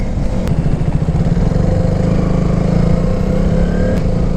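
A KTM Duke 200 motorcycle engine idles steadily and loudly up close, a continuous low mechanical rumble with no change in pitch throughout.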